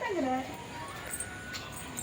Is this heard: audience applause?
no